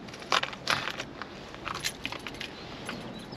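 Keys jangle close by, handled beside a phone in a Ford F-150 cab, with a few sharp metallic clinks early on, then lighter, scattered rattles fading out.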